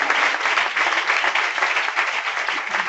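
A church congregation claps together in loud, sustained applause, a dense even wash of hand claps lasting the whole stretch without a break.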